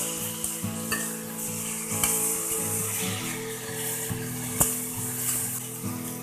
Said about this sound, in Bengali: এবার ভালোভাবে নেড়ে ফেড়ে মশলার সাথে সবজিটা কষিয়ে নেব